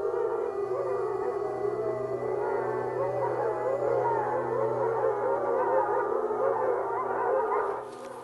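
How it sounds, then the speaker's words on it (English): Wolves from rival packs howl and yip back and forth in a chorus, many voices overlapping in wavering tones, sustained and moderately loud throughout before easing off at the end. "The howling that goes back and forth between the packs"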